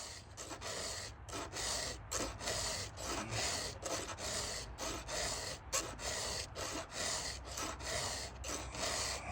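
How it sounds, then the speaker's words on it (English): A hand file rasps on a Husqvarna 562 chainsaw chain tooth in quick, rhythmic back-and-forth strokes, each stroke a gritty scrape with brief gaps between, close and steady. "So I'm filing up underneath the tooth."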